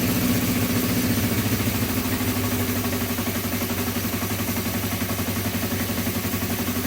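Honda CB350 motorcycle engine idling steadily with a low, even, slightly pulsing rumble, close and continuous throughout with no talking.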